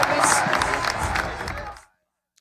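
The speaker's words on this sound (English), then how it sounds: "the crowd noise in the back there, that's actually from an Sacramento athletics game that I recorded" Crowd noise recorded at a Sacramento athletics game, a dense roar of cheering and shouting that plays loud for about two seconds and then cuts off abruptly to silence.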